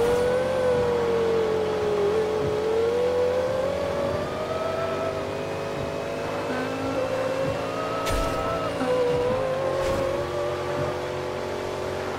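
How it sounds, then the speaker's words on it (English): Supercharged V8 whine heard from inside an SUV cabin in the Forza Horizon 2 racing game, a steady high-pitched squeal riding over the engine drone that rises and falls with throttle, with a couple of sharp clicks midway. "about that squealing sound"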